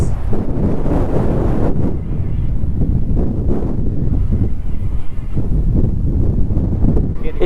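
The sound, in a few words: strong gusty wind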